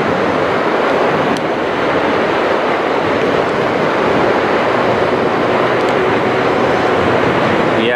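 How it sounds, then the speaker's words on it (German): Wind blowing across a Norwegian mountain massif, a steady, loud, broadband roar with gusty buffeting that fills the whole stretch without a break; no one speaks. "Oh, der Wind pfeift."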